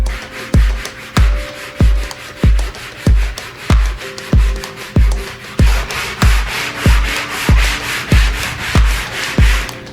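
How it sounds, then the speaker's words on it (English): Sanding block with 60 grit paper scrubbing an old wooden table, loud, close rhythmic back-and-forth strokes repeating about twice per second with no talk. "open up our 60 grit sand block, and you should sand every little nook, cranny, everything on this"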